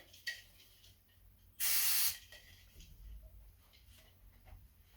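A short, loud hiss of disc brake cleaner sprayed onto a hybrid bicycle's brake disc, one burst of about half a second standing out against quiet workshop background.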